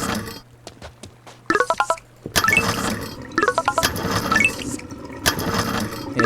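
Water gurgles and splashes in a drain in the video game Drain Sim, with bursts of filling and dripping, bubbly pitch sweeps and brief quiet gaps between pulses.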